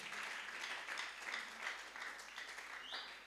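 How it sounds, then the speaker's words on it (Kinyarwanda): An audience claps together, a fairly quiet, even patter of many hands that swells slightly and carries on steadily without pause. "Reka tumwongere amashyi menshi cyane."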